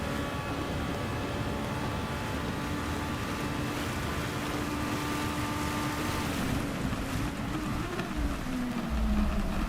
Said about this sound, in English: It's properly raining now.